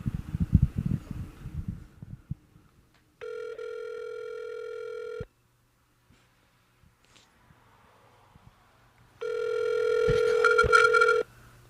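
A telephone rings out unanswered on a call, two long steady electronic ring tones separated by a silent gap, clear and fairly loud with only faint background noise between them.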